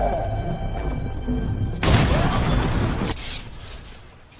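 A sudden loud blast erupts over a rumbling background, followed by a second sharp burst of crashing noise that trails off.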